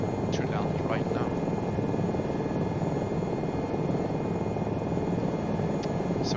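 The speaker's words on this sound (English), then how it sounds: "an helipad, an helicopter platform, where we are trying to land right now" An Aérospatiale SA315B Lama helicopter descends toward a mountain-top helipad, its rotor and turbine producing a loud, steady, close drone throughout, with a few faint tonal whistles above it.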